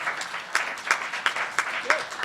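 Sparse applause at a SMPTE student chapter meeting, a handful of people clapping in distinct, fairly regular slaps, with a voice briefly audible among them.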